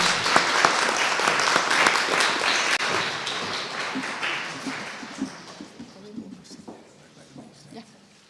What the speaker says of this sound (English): Please welcome with applause Monta Brīvība